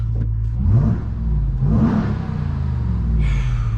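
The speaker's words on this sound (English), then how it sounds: "You already hear the V8. It's really good. So let's give a few shots." A 2023 Ram TRX 1500 pickup's supercharged V8 engine rumbles loudly, revving up in a couple of throttle pulses that rise and fall over a steady low idle.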